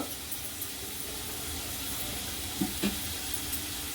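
Asafoetida dropped into hot oil with browned garlic for a bitter gourd dish gives a steady, even sizzling hiss, with a few faint clicks partway through.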